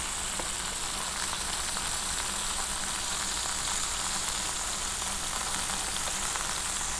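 Fish fillets, such as tilapia, frying in a pan for tacos, giving a steady, even sizzle that stays constant throughout with no talking.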